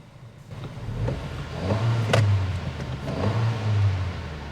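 A 2023 Acura Integra A-Spec with a manual transmission pulls away, its engine rising in two revving pushes through the gears, heard from inside the cabin at a steady moderate level.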